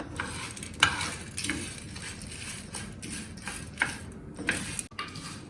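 Chana dal and other ingredients for South Indian karam podi dry-roasting in a pan with no oil, with repeated scraping stirs and faint ticking scrapes over a soft, steady roasting hiss, heard close and without talk.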